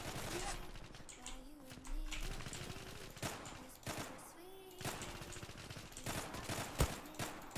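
Pistol shots crack in the online shooter Zula, fired singly in short bursts through a busy game mix, while a player keeps talking and in-game tones sound in the background.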